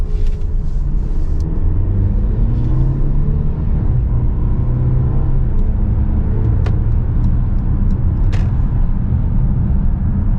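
A 2021 Mercedes GLC 300 4MATIC SUV with its 2-liter engine pulls away, steady low road and engine rumble filling the interior, with faint clicks and taps over the drone.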